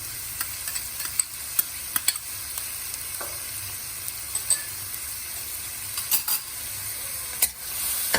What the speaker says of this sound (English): And you're going to saute these